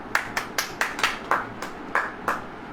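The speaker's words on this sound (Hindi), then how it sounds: "ताली बजाइए।" Rhythmic clapping by a congregation during a Hindi-language church sermon, about nine crisp unison claps at a steady beat, close and fairly loud over a quiet room.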